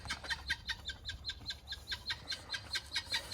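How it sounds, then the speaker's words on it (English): A guinea hen calls in a garden with rapid, repeated harsh clucking notes in an even rhythm, moderately close and steady throughout, with no talking. "Guinea hen."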